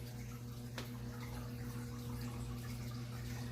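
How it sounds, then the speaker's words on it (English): Water from a water change runs steadily into a large 300-gallon aquarium in a home fish room, a constant wash heard at close range over a low steady hum from tank equipment, with one brief tap near the start. "Got a water change going on in the 300 behind me."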